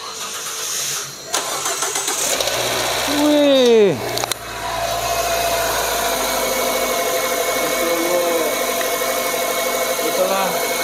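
A rebuilt car engine cranks with a rising whine, catches with a loud burst, then settles into a steady, smooth idle that carries on close and even; a short exclamation is heard as it fires.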